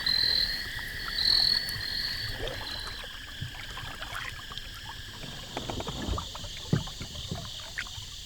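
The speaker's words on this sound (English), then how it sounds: "get in the kayaks and paddle back upriver" Kayaks being paddled back upriver in the evening, with soft scattered strokes and water splashes against a steady outdoor backdrop of frogs and chirping insects.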